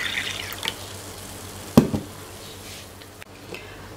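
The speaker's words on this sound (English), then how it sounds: "I'm gonna pour the liquid" Kombucha poured from a container into a cup, a short splashing burst of liquid in the middle of a quiet kitchen, with faint trickles after.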